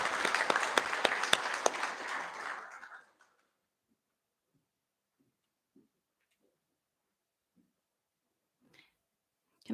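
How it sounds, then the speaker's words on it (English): School prize-giving assembly audience applauding, a burst of loud clapping that fades out after about three seconds, followed by quiet room noise with a few faint scattered sounds. "Let's give another round of applause."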